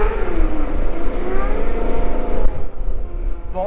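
A racing motorcycle engine at a world championship team garage revs loud and close, a steady rough roar with uneven pitch swings, quieting slightly near the end.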